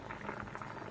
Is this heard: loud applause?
no